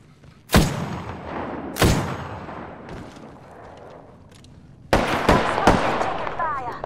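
Sharp, loud gunshots ring out in a battle-royale shooter, two isolated cracks followed by a quick cluster of shots, with quieter ambient game sound in between.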